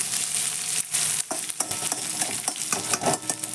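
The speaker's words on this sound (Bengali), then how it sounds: "এবার পেঁয়াজটা বেশি একটু লাল লাল করে পুরো ভাজা হয়ে যাবে" Onions frying in a pan until reddish-brown for a lentil tempering, sizzling close up while a spatula scrapes and stirs in irregular strokes, no voices.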